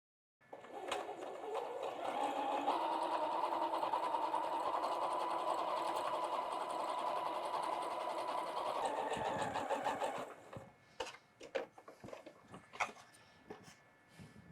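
Sewing machine stitching a pinwheel quilt block, running as a steady, loud continuous whir for about ten seconds before stopping, followed by a few faint scattered handling clicks.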